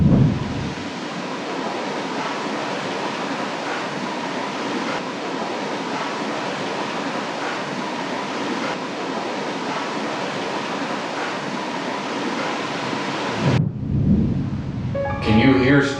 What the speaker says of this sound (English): The storm's been going on.